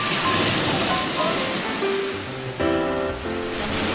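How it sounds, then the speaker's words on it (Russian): Steady rush of sea surf washing onto the shore at Simeiz, Crimea, continuous and fairly close, with faint tonal background sounds mixed in. "А еще, конечно, потрясающий вид и бесконечно приятный шум моря."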